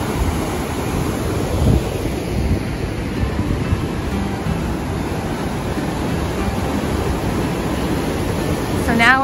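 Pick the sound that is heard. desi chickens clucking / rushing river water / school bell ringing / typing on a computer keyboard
rushing river water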